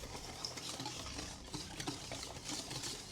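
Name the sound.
whisking seasoning and cayenne pepper mixture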